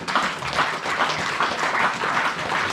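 A church congregation applauds together, a dense, sustained burst of many hands clapping close by with a faint rhythmic pulse and no clear voices.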